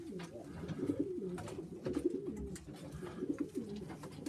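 Sheffield Tippler pigeons coo in soft, low, repeated rolling calls, several birds overlapping close by in a quiet loft with faint rustling.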